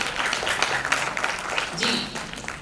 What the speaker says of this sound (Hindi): गरिमा मिश्रा के लिए एक बार जोरदार तालियां